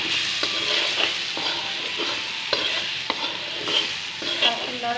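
Cumin powder and garlic are stirred steadily in a hot pan, a constant sizzle carrying repeated scraping strokes of a spoon at a regular rhythm, close and moderately loud with no talk.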